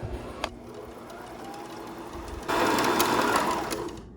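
A sewing machine run by a foot pedal starts up while sewing vinyl, quiet handling at first, then a loud steady whirring motor hum that keeps running close by.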